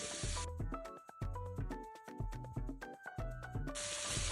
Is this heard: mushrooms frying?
yes